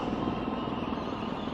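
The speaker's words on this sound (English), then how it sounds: "the Heritage helicopter formation, the Puma and the Alouette 3" Puma and Alouette III helicopters flying past in a heritage formation at an air force display, a steady, dense rotor and engine drone that stays even and fairly loud throughout.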